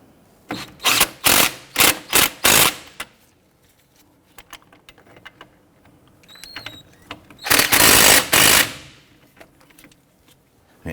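A power tool, probably an impact wrench, snugs down bolts on the steering knuckle of a 2006-2014 Honda Ridgeline: a loud, close series of five whirring bursts, a quieter pause with small clicks, then one longer burst.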